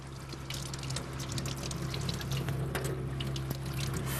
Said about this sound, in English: Pop them in the colander, and I run a little cold water on them just to stop the cooking process